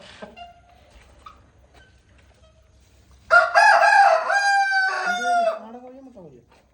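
A fighter rooster crows loudly and close by in one long, full cock-a-doodle-doo that rises and then trails off, after a few seconds of near-quiet with faint clucks.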